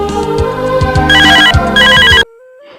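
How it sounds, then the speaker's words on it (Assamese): A mobile phone plays a loud, melodic electronic ringtone in a domestic scene from an Assamese film. The repeating notes grow brighter, then cut off abruptly, leaving near silence. "এনেতে ফোনটো বাজি উঠিলে মমী দেউতাকে ফোন কৰিলে"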